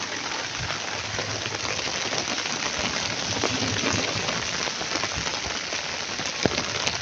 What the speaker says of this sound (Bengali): প্রচুর বৃষ্টি হচ্ছে বাইরে